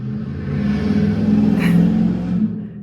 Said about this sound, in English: There goes another motorcycle.